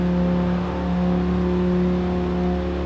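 A steady car engine drones and revs continuously in the racing game Forza Horizon 4, a Quadra car from Cyberpunk 2077 reaching 305, its low harmonic hum holding loud and close throughout with no talking.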